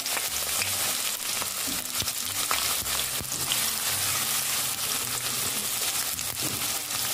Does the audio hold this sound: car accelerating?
no